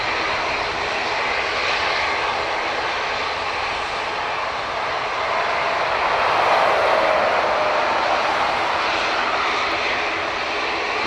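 At Dublin Airport, a jet aircraft engine roars steadily at a distance, a broad, even rumble that swells slightly midway and holds with no voices present.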